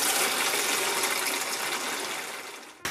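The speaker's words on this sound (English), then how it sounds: "I just squirt that in a bucket and I add hot water." Hot water gushes steadily into a bucket holding a squirt of ordinary dish soap, a loud continuous pour that tapers slightly before cutting off near the end.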